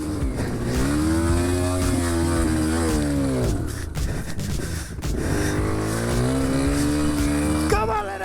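A small, cheap TTR dirt bike engine straining and revving hard through thick mud, its pitch climbing and dropping in long surges, loud and close throughout.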